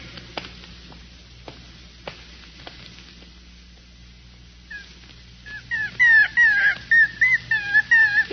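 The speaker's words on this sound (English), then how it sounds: "Poor little pup." A little pup gives a run of high, wavering whimpers and yips, closely miked and rising in loudness toward the end after quieter faint taps and thumps.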